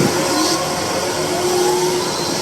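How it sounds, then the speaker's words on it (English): A car wash air dryer blowing, a loud, steady broadband roar of rushing air with a faint whine, constant throughout and without any talk. "And now here goes the air dryer."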